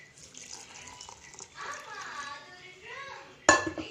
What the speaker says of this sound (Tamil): இப்போ நம்ம வந்து வேக வச்ச தண்ணியையும் இதில் சேர்த்துக்கலாம்